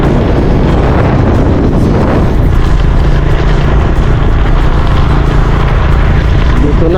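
Strong wind roars across open rice paddies near a bridge, a steady loud buffeting rumble that fills the scene without pause.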